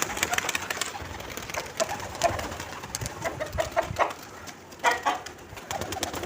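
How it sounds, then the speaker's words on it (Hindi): Pet pigeons coo softly in repeated low calls, with rustling and faint wing flutters nearby as they come out of an opened gate. "बाकी अब सारे खुद ही आएंगे कबूतर बाहर"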